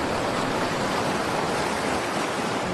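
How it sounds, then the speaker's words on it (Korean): Ocean waves surging against the rocky shore of Seuldo island, a loud, steady broadband roar of surf washing in and draining out, close and continuous with no talk. "지금 들리는 이 파도 소리 웅장하죠."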